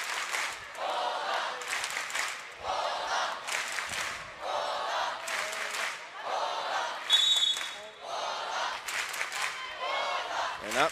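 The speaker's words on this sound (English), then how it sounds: "And you can hear the crowd starting to chant." Crowd at a women's basketball game chanting in rhythmic bursts with repeated loud surges, mixed with cheering and clapping in an indoor arena.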